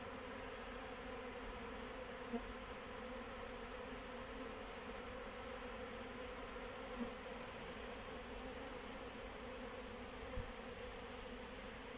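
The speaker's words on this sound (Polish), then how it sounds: "Jak się spojrzy, to tak jak na wiosnę pszczoły chodzą." Many honeybees hum in a dense, continuous buzz around a hive, steady and fairly quiet, with no voices.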